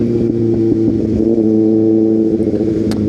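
Heavy road traffic, a loud near car engine idling and revving with a steady droning hum and some clatter, continuous throughout.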